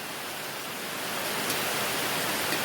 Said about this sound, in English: It's raining. It's a rainy day.